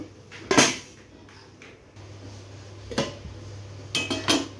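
A metal lid set onto a cooking pot on a gas stove gives a few sharp clanks, one near the start and a cluster near the end, with a faint steady hum between them.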